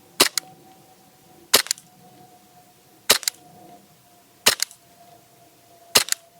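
Five sharp shots from an HK airsoft pistol ring out alone at an even rhythm, each a crisp, close crack with a quick secondary click, spaced about a second and a half apart over a faint background hum.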